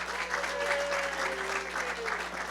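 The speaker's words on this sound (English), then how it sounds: "give Mouse a round of applause." An audience at a hacker conference gives a round of applause, a short burst of steady, moderately loud clapping. A few voices sound faintly underneath.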